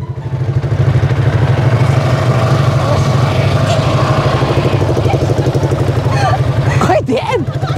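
A manual-gear motorcycle ridden by a first-time learner rumbles steadily close by, its low engine drone pulsing evenly as it moves off, with voices rising near the end.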